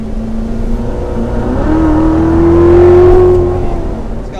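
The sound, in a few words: supercharged Chevrolet Corvette Z06 engine revving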